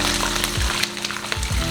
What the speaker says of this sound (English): We're going to fry this slowly until golden brown, about 3 to 5 minutes